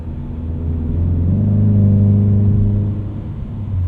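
A 2020 Ford Mustang EcoBoost with the High Performance Package revs under load from inside the cabin, a steady low drone swelling into a louder, rising engine tone that holds as the car pulls, with no voices.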